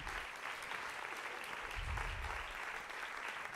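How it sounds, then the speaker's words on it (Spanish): Applause at a gender-equality awards ceremony welcoming a string trio, a continuous, fairly even wash of many hands clapping from a sizeable audience, heard at moderate distance without talk. "Rebem-les amb un fortíssim aplaudiment al trio Archi."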